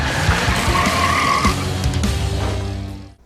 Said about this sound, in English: she gets into the car, puts on the shades, and speeds off down the road